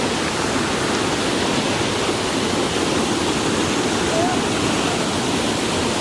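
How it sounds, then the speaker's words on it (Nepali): A small waterfall at Simba Falls in Lalitpur pours steadily, a dense continuous rushing hiss of falling water that stays even and close throughout with no breaks. "फाइनली एउटा सानो झरना हो नि देखियो यार, फर्स्ट झरना"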